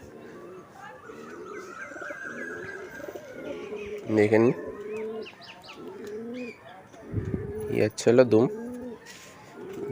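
Pigeons coo steadily, close by, with a few louder bursts of cooing and wing flapping, while someone talks over them.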